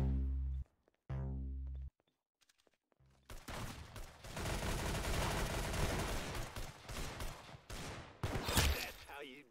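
Rapid gunfire from a shooting video game, dense sustained bursts of fire lasting several seconds after a short gap, loud and close.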